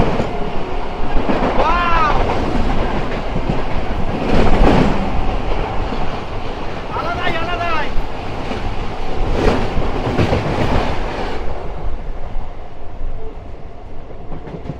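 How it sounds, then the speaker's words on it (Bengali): Inside a moving local super express train in India: a constant loud rumble and rattle of wheels on track, with faint voices mixed in now and then. "জার্নি করছি লোকাল সুপার এক্সপ্রেসে হ্যাঁ লোকাল ট্রেনের মজা নিচ্ছি"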